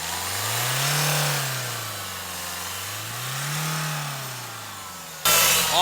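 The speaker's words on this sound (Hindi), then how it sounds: "अभी मैं आपको इसकी आवाज सुनाता हूँ, कैसी आवाज निकालता था भाई ये" A 22-year-old Toyota diesel car engine revs up and settles twice in slow, smooth swells, loud and close, with no talk; a sharp burst of louder noise cuts in at the very end.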